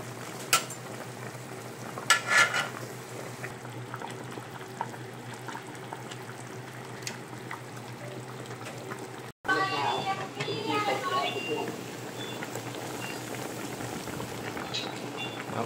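A pot of fish soup with mustard greens simmering on the stove: a steady low bubbling hiss throughout, with occasional clinks and a burst of stirring partway through, under talk.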